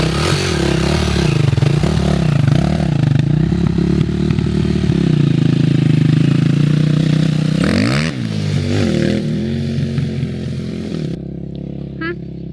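A Yamaha moped engine runs loud and close, revving in uneven surges with rattling and scraping, then pulls away and fades into the distance as it rides off.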